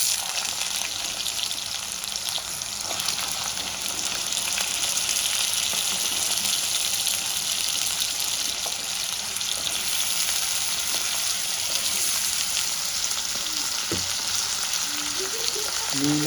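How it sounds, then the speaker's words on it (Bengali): Diced potatoes fry in hot oil with a steady, dense sizzle that holds at an even level throughout, close and continuous with a few faint clinks near the end and no talking. "এই তেলের মধ্যে আমি আগে থেকে কেটে রাখা ডুমো ডুমো করে আলুগুলো আমি ভেজে নেব লাল লাল করে।"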